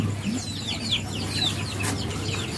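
Large ornamental Muscovy ducks on a village farm in Demak give faint, scattered calls and chirps over a steady low background hum, with no voices.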